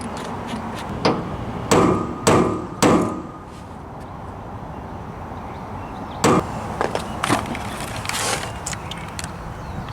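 Several sharp metallic hammer strikes on a center punch marking a hole for a truck-bed tool box, a cluster of three early then a few more later, each a crisp close tap over quiet background.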